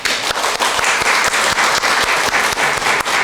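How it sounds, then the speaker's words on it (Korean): A church congregation claps at a Sunday worship service to bless a couple greeting them. The applause is steady and fairly close, with faint crowd murmur underneath. "두 내외 인사하실 때에 우리 박수로 축복하도록 하겠습니다."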